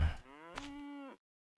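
A cow moos in the Farmer's Life farming video game, a single close, drawn-out low bellow lasting about a second, heard alone.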